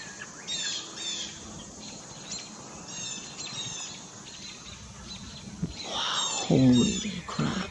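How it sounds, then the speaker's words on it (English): Several birds chirp and call in sharp, agitated bursts outdoors, mobbing a nearby hawk, with a louder flurry of calls near the end over steady background insect and nature noise. "those birds do not like that hawk"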